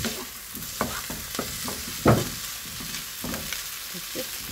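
Sliced mushrooms stir-fried in a hot pan with a steady low sizzle, broken by scraping and stirring strokes and one louder clatter near the middle, with no voices.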